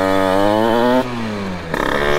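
A Rieju MRT Pro 86cc two-stroke motorcycle revs hard, its pitch climbing steadily, then drops as the rider shifts. It picks up again with a rougher, clattering tone, loud and close, with no talk.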